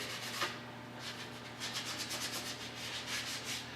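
Rhythmic scratchy sanding strokes rasp back and forth over primer on a rusty Chevrolet Suburban's body, close and steady, with a faint background hum and no talking.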